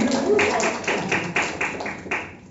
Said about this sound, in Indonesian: Kasih tepuk tangan dong gitu.